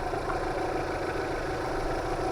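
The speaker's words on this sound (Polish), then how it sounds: "silnik pracuje równo jest suchy prosta jednostka łykająca bardzo chętnie gaz" A Chevrolet Evanda CDX engine idles steadily, a low continuous rumble with an even hum and no voices.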